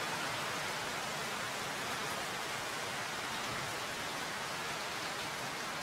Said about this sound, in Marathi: जोरदार मुसळधार असा पाऊस आलेला आहे।